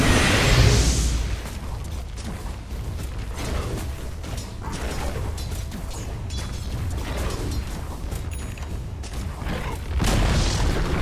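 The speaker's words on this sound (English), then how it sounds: "Dire's bottom tower has fallen." A tower collapses under attack in Dota 2, with a sustained rumbling, crunching destruction and booming impacts that swell at the start and again near the end, loud and continuous with no voices.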